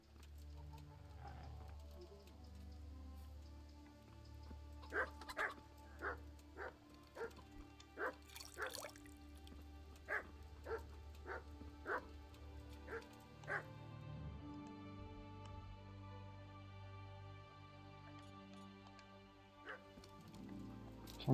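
A dog in the medieval role-playing game Kingdom Come: Deliverance barks about a dozen times in sharp, evenly spaced yaps, fairly quiet against a soft low ambient bed, with whimpery sounds and no talking.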